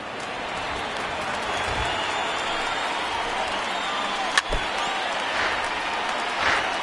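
Broad crowd noise filling an MLB baseball stadium of over 31,000 people rising to their feet, a sustained, fairly even roar with a sharp bat-like crack midway and a swell near the end.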